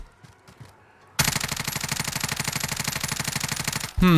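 Groza rifle in Call of Duty Warzone fires one sustained full-auto burst of rapid, evenly spaced shots, loud and close, after a short quiet lead-in of faint game sounds, with a new burst starting right at the end.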